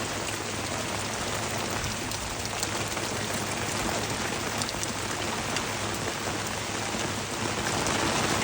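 Steady rain pours down at an off-grid build site during a thunderstorm, a dense, even hiss of drops on surfaces lasting throughout with no voices.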